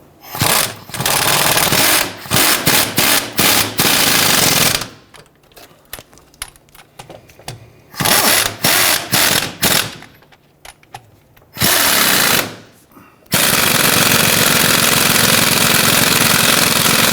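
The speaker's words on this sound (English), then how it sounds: "we're going to go ahead and tighten those down." Power tool tightening control arm bolts on a 1999-2004 Jeep Grand Cherokee during a rear upper control arm bushing job, loud bursts of rapid rattling impacts separated by short pauses, ending in a longer sustained run.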